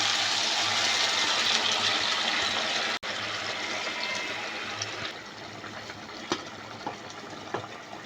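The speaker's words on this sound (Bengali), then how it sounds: "জল দিয়ে দিলাম একটু।" Water poured into a pot of chicken curry, a loud close rushing pour for about three seconds, then a softer steady trickle and splash that thins out with a few clinks near the end.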